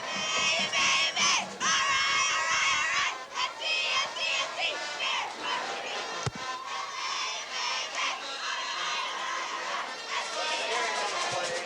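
Marist cheerleaders shout and cheer at a high school football game, a loud, sustained chorus of young voices chanting with pulsing bursts, set against general crowd noise.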